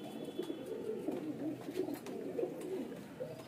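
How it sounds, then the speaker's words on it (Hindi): A pigeon gives a soft, close, throaty cooing, a short run of low bubbling notes heard alone against a quiet background. "ये भी नर की तरह गुटकता है"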